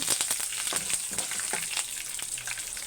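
Curry leaves crackling in hot oil with turmeric, a close, continuous sizzle dotted with rapid pops and spits.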